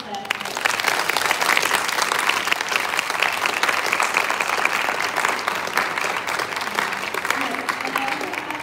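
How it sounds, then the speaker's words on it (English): Steady, dense applause from an audience at a livestreamed talk event on reporting justice, sustained and even throughout, with some crowd murmur blended in. "Please, huge round of applause to all of us."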